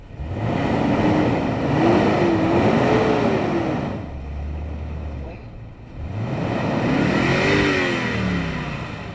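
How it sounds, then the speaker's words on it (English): An overland vehicle stuck on the Salar de Uyuni salt flat revs hard in two long surges, the engine pitch rising and wavering, dropping briefly between bursts, loud and close. "We'll rev it up."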